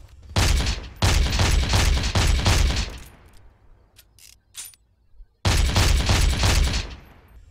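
Rapid revolver gunshots from Brink ring out in two loud bursts of closely spaced, booming reports, separated by a quieter stretch of echoing tail and a few faint clicks.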